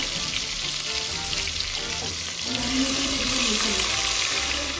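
Prawns fry with garlic, ginger and green chilies in a pan over low heat, a continuous close sizzle with a light watery hiss, and a brief faint tone near the end.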